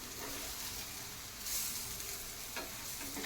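Oil sizzles steadily in a pan while gram-flour vada fry over a high flame, a continuous close hiss with occasional stirring scrapes and no talk.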